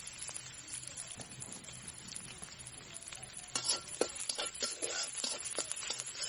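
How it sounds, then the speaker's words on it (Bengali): Onion, chili and garlic being stirred in hot oil for fenugreek greens, with a steady low sizzle and a run of scraping, clattering spoon strokes that grow busier and louder toward the end. "এখন ভালো করে নাড়াচাড়া করতে হবে।"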